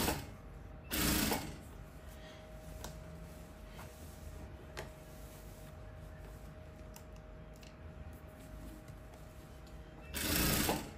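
Fabric stretched over shirring elastic being stitched on a straight-stitch sewing machine, giving a steady, close, rapid mechanical ticking run that continues throughout, with short louder bursts near the start and end.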